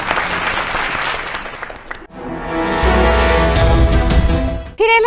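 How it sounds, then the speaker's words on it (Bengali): Loud studio audience applause at a Bengali family game show, a dense crowd clapping that swells and sustains for several seconds before cutting off, with a brief burst of music near the end. "দুজনের জন্য জোরে হাততালি।"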